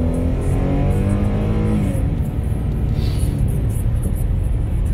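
A 2016 Dodge Challenger with the 3.6-litre engine accelerates, a loud, continuous engine roar and road rumble heard from inside the car, with no talk.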